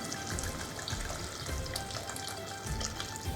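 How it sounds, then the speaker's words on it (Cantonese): Tomatoes sizzle and crackle in a hot pan as they are stir-fried with salt, a steady close frying hiss throughout. "加1茶匙嘅鹽，將番茄炒勻"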